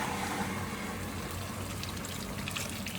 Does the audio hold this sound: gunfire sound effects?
no